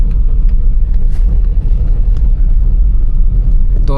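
A car creeping forward slowly over a rough, broken off-road stretch, with a steady loud low engine rumble and occasional knocks and jolts from the uneven surface.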